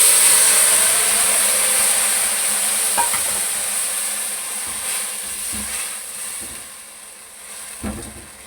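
Jaggery syrup being stirred into vermicelli frying in a pan, a steady hiss and sizzle with scraping stirs, fairly loud and close, no voices.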